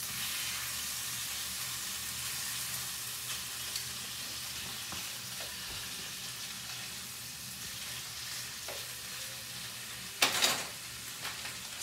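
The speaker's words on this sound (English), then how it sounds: "I'm just waiting on my bacon to crisp up." Bacon crisping in a pan gives a steady, soft sizzling hiss throughout, with a brief louder clatter or burst near the end; no talking.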